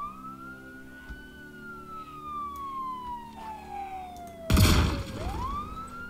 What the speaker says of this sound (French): on va arrêter la sirène